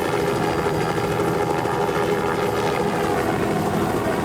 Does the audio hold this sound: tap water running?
no